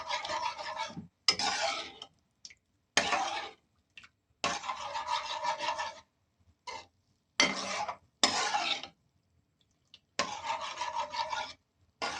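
Homemade meatball spaghetti sauce is stirred in a pan, giving rasping, scraping strokes in separate bursts with short silent gaps between them, close and clear with no voices.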